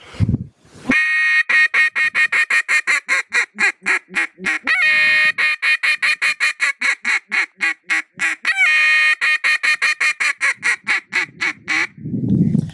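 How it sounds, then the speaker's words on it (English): A competitive duck caller blows a three-topper hail sequence on a duck call: a long series of loud, evenly spaced quacks at the same length and consistency, played close and alone. "they're supposed to be 3 hails at the same length, at the same consistency, so they sound like this."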